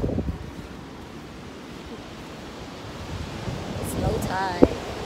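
Ocean waves wash onto Sai Wan Beach in Hong Kong at low tide, a broad continuous surf roar with wind buffeting the microphone and a brief faint voice near the end.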